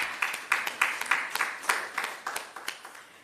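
Audience at a national health research conference claps in a brief, uneven round of applause, a handful of distinct claps rising and fading, moderately distant in a large room.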